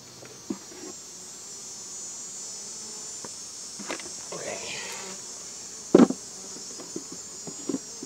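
Honeybees buzz faintly around a hive as a nuc is moved up to a 10-frame box, a soft steady drone with a few brief nearby knocks and clicks.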